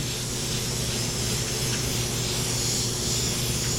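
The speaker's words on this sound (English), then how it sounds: "Now I'm going to blend that color back up over everything else. Really light and feather it in. Airbrush is always moving." A steady airbrush spray hisses continuously and evenly while blending sunset colours over a painted horse-and-rider silhouette, close and unbroken throughout.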